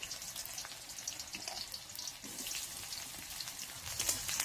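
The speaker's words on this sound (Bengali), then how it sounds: "পেঁয়াজে তেলের মধ্যে ফেলে দিচ্ছি" Chopped onions fry in a generous amount of oil, a continuous bright crackling sizzle with small pops, fairly quiet and close, swelling slightly near the end, with no one talking.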